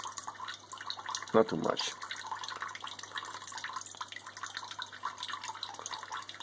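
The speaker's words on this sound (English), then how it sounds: "And is this leaking? Yes, this is leaking a bit." Water drips and trickles steadily from a DIY water-cooled TIG torch, with faint close patters and one louder splash, while a person speaks briefly.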